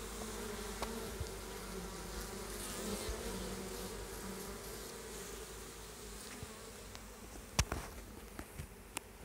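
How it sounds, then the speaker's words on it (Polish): Steady, soft buzzing of many honeybees around hives in an apiary in early April, a dense outdoor hum with a few faint clicks and taps near the end. "Ja jedę dalej słuchać muzyczki od pszczół"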